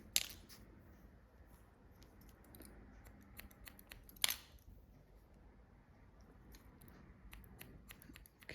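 Hair-cutting shears snip through hair during a pixie cut for an older woman: sparse, crisp close-up snips, with one sharper cut standing out, in a quiet room with no talking.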